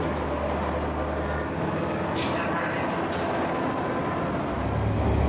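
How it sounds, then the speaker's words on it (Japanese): Steady rumble and rattle of a local train pulling away from Sakawa Station toward Kochi, low mechanical drone rising slightly toward the end, with faint voices in the background. "名残を締めつつ、列車は高知駅へ向けて出発"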